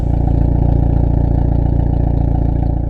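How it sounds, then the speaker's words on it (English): Deep, throaty exhaust idle from a 2020 Hyundai Veloster N, recorded very close to the tailpipe, a loud, steady low rumble with a fine pulsing texture and no talk. "I'm going to get the phone a little bit closer to the exhaust, as this has a really throaty, nice, intense, deep sound"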